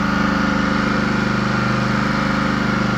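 A generator engine running on hydrogen gas chugs steadily up close, its even, rapid mechanical pulsing loud and constant with no clear rise in revs and no talking.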